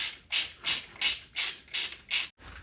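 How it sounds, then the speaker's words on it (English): Socket ratchet tightening 13 mm bolts on a Skoda Favorit engine during a head gasket job, seven rapid buzzing clicks in steady back-and-forth strokes, close and alone. "Now that they're done, I can just do up these 13 mils."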